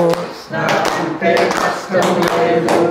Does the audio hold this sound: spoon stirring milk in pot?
no